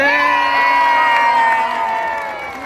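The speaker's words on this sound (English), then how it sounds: "I want the biggest round of applause ever" Audience at a sea lion show cheering, whooping and applauding, with children's shouts and high voices forming a loud, sustained roar that fades slightly at the end.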